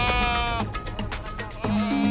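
An injured goat bleats loudly and close, with long, strained, wavering cries and a brief break between calls.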